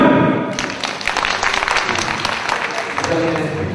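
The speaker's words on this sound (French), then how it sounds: "On applaudit." A seminar audience applauds at a one-day seminar, a dense, steady patter of many hands clapping that starts loud and carries on for several seconds with some voices mixed in.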